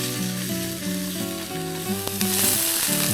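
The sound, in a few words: stir fry sizzling in a pan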